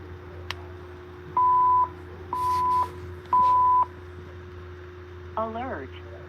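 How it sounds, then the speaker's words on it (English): A Gamewell mass notification system sounds its alert: three steady electronic tones in a row, each about half a second long, followed by a short spoken announcement. "This is the mass notification system. Yeah, that's Gamewell message."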